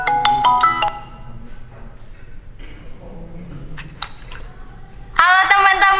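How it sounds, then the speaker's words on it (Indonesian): A mobile phone ringtone plays in bright repeated bursts, first a quick series of tones, then a pause with quieter sounds and voices in the room, before the melody returns loud and sustained. "HP siapa sih yang bunyi?"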